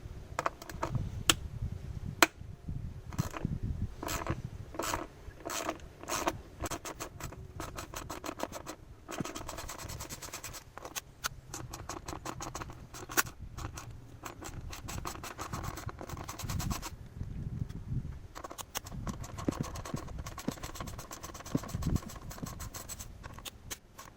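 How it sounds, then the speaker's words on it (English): Close metallic clicking and scraping from a 10mm socket ratchet undoing the coil pack on a Mini Cooper R50 during an ignition upgrade, a busy run of irregular ticks and rattles with no talking. "Next you want to get your 10mm socket out, and now we're going to undo the coil pack."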